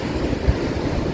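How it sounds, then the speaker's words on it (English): Ocean waves break steadily on a wild Portuguese beach, a loud, continuous low roar and wash with a slight gusty rumble, no voices over it. "I like the sound of the waves"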